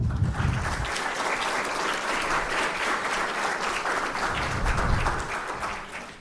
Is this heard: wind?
no